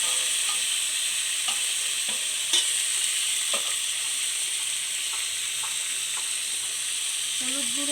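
Ground spice paste frying in a pan for lau chingri with fig curry, a steady high sizzling hiss broken by occasional scrapes and taps of stirring, close and continuous, with no speech.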